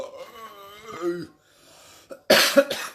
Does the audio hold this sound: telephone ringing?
no